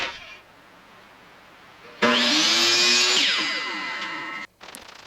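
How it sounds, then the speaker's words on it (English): A miter saw makes a single angled 45-degree cut through wood for a wall-mounted mini bar. The blade spins up with a loud, close whine that holds for about two and a half seconds, then cuts off abruptly after a quiet lead-in. "Get that cut up on the miter."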